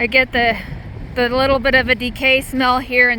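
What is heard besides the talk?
No everyday noises stand out.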